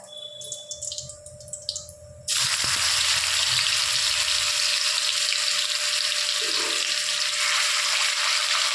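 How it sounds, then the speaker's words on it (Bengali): Ginger, garlic and green chili paste drops into hot oil with nigella seeds for a bhindi dish, setting off a sudden loud, steady sizzle that continues evenly after a quieter opening. "কালো জিরাটা একটু নেড়ে নিয়েই এর মধ্যে দিয়ে দেবে আদা, রসুন আর কাঁচা লঙ্কা পেস্টটা"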